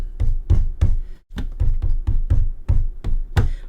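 Repeated taps and bangs on a HyperX QuadCast USB microphone, roughly ten sharp close thumps in an irregular rhythm with a brief pause midway, no voices.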